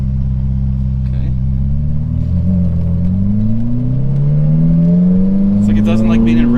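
A Ferrari 488 engine on its first test drive in race mode, droning steadily and rising in pitch as it accelerates, loud and close from inside the car, with faint voices underneath.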